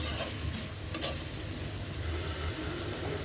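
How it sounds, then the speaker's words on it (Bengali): Onions frying in hot white oil for a dried-fish dish with bean seeds, a steady close sizzle with faint stirring scrapes running throughout, no voices. "তেলটা গরম হলে আমরা এতে দিয়ে দেব পেঁয়াজ"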